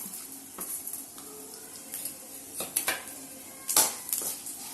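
Dried red chillies and urad dal sauté in hot oil for a beetroot poriyal, a soft steady sizzle broken by several sharp clinks and scrapes of a spoon stirring against the pan.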